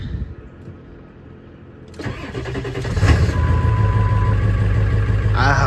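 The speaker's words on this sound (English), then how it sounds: "I've never heard that my truck spin up that fast" A 7.3 Powerstroke diesel truck engine cranks on a newly replaced starter and catches at about two seconds, then settles into a loud, steady rumbling idle.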